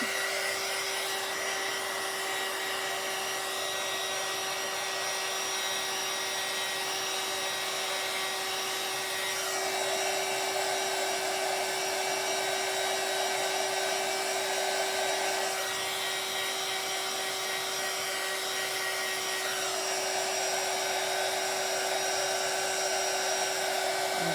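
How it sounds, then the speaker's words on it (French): A heat gun runs continuously for heat embossing on a handmade card, a steady, loud, close blowing whir with a constant tone, shifting slightly in pitch as it moves. No talking is heard. "Donc là, je vais embosser à chaud. Donc ça va faire un petit peu de bruit."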